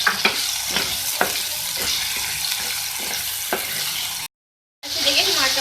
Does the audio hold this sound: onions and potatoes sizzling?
yes